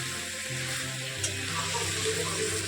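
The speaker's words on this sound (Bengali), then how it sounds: "মাংস রান্না স্টার্ট হয়ে গেছে।" Marinated chicken frying in oil with chopped onions in a home kitchen, a steady bright sizzle with occasional crackles and a low background hum.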